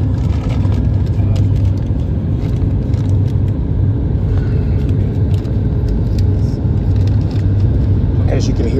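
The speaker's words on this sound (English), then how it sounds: "As you can hear, speed brakes are on." Steady, loud low rumble fills a Southwest Boeing 737 MAX 8 cabin on a bumpy approach into Las Vegas with the speed brakes deployed, droning without a break from start to finish.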